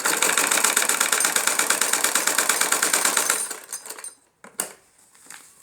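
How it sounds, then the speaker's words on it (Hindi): A sewing machine runs a fast, even chatter of stitches along a salwar hem, close and loud for about three and a half seconds before stopping, followed by a few soft handling clicks and rustles. "पोंचे पे हम डबल सिलाई लगाएंगे।"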